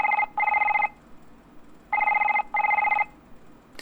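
Telephone ringing in the Doctor Who: The Lonely Assassins video game, a bright electronic double-burst ring repeating twice with short gaps, clear and close with no talking.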